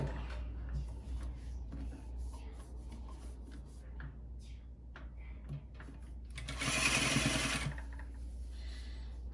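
Sewing machine stitching foam bra cups: a quiet room with faint handling noises, then a short, louder burst of rapid machine stitching lasting about a second.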